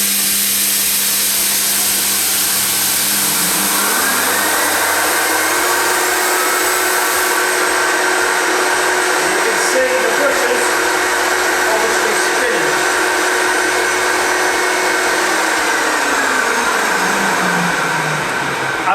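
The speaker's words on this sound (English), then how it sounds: "Now I'm going to release the steam and now the vacuum." A dry steam extraction cleaner releases steam and vacuums with a loud, continuous whooshing hiss and motor whine, a sustained machine roar with shifting pitch throughout.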